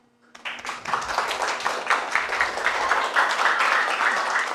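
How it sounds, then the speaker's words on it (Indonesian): A group in a classroom applauds a presenting group, with dense, lively clapping from many hands that starts abruptly and stays strong to the end. "Oke, kita semua kasih aplaus untuk kelompok 2."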